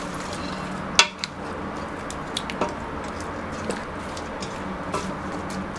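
A metal lid is set onto a cooking pot of simmering Algerian chorba, giving a sharp clank and a smaller knock. Faint clinks and soft bubbling follow in a quiet kitchen.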